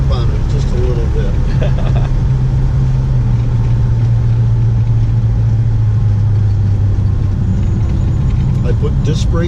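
A vintage American muscle car with a Dana rear end pulls hard under a loud, continuous engine roar that holds steady throughout, with the note droning close and unbroken.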